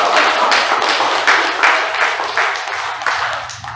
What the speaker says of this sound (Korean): 우리 서로를 위해서 박수 한번 쳐볼까요?